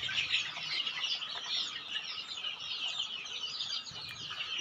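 Kadaknath chickens kept among local chicks, Starkies and Pekin ducks at a poultry stock yard cluck and chirp steadily for several seconds, a busy high-pitched flock chatter with a few wing flaps and no talking.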